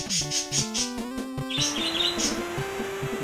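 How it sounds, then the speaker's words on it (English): Birds in a video game chirp in quick, clear repeated tweets, followed by tonal sweeping whistles over a faint steady background, fairly close and without talking. "Birds are unhappy."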